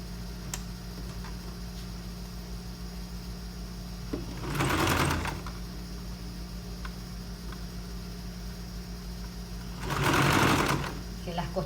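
A sewing machine stitches blouse shoulder seams in two loud bursts of rapid whirring, each about a second long, over a steady background hum.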